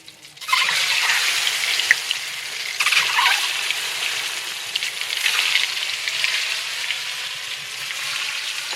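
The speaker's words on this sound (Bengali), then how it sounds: "তেলের মধ্যে হালকা হলুদ দেব দিয়ে ডিমটাকে ভেজে নেবো" Eggs drop into hot oil with turmeric and burst into a sharp sizzle after a brief quiet start. The frying then carries on loud and close, swelling in a few bubbling flare-ups.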